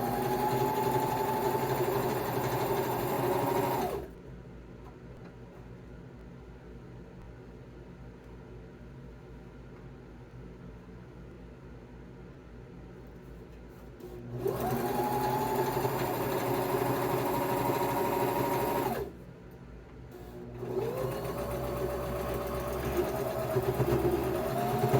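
A sewing machine stitches seams on a stuffed bear, its steady whirring run lasting a few seconds, then silence, then a longer run and a shorter final burst, loud and close with no talk.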